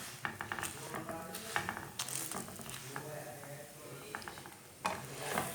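Egg bread frying in a pan on the stove gives a steady soft sizzle, broken by clinks and scrapes as it is flipped and turned, close and fairly quiet, with a little talk now and then.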